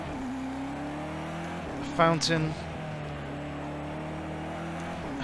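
Race car in Project CARS 2 braking and turning, a steady engine drone with a brief loud surge of revving and tyre noise partway through, while someone talks over it.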